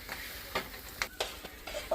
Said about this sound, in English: You just mix them up.